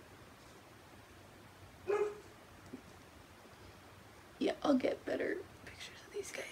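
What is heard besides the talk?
dog barking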